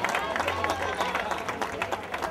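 Crowd applauding the top three women overall at the podium ceremony of an evening San Juan night fun run in Rota, with dense, steady clapping throughout and voices mixed in.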